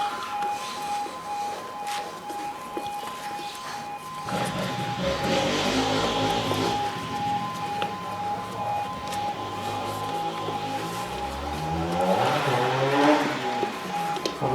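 A Honda CRF 250 F dirt bike engine revs and the bike accelerates hard, a rising, buzzing roar that swells mid-clip and again near the end, heard outdoors at moderate distance without speech.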